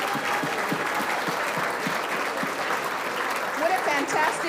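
Sustained applause from the audience at a scholarship dinner, dense and steady clapping from a large room, with voices mingling faintly underneath.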